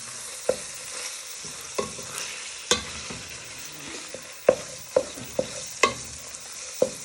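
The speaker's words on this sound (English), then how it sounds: "You want to give it a good stir for a few minutes so your mince go nice and brown." Minced meat browns in a pan for Scouse while a wooden spoon stirs and breaks it apart, giving a soft continuous sizzle broken by sharp irregular scrapes and taps against the pan, with no talking.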